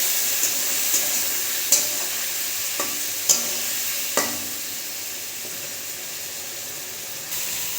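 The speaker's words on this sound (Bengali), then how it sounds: "এবারে পেস্ট করে রাখা মশলা দিয়ে দেবো। দিয়ে ভালো করে কষিয়ে নেব।" Vegetables with ground spice paste stir-fried in a pan, a steady hiss of frying broken by a few sharp scrapes and clinks of the spoon, close and alone without talk.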